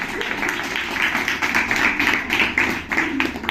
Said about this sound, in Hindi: एक जोरदार ताली बजाओ अपने लिए और यूनिवर्स के लिए